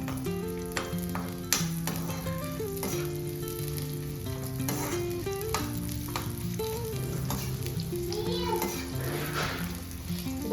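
Continuous bubbling sizzle of unniyappam batter frying in oil, with faint voices and tonal sounds in the background.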